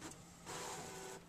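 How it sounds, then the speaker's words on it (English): A desktop printer runs through the final page of a card sheet, a soft whirring feed that steps up into a steadier mechanical drone, close and fairly quiet. "I think the last page is printing here."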